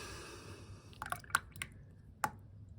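Almond seeds dropped into a container of water in a greenhouse to soak, giving a few brief, close splashes and drips spaced over a couple of seconds against a quiet background.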